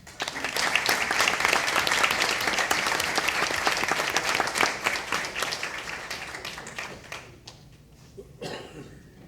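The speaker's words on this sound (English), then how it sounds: "Another round of applause for Cedar Creek." Audience applause at a school board meeting, a dense steady clapping that holds for several seconds, then thins out and fades with a few scattered claps and a cough near the end.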